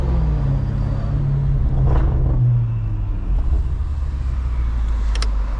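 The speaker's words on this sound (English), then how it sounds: "we're gonna get on the throttle to show you guys" BMW F90 M5 Competition engine pulling under throttle from inside the car, a steady deep rumble with a rising roar around two seconds, followed by continued low drone and road noise.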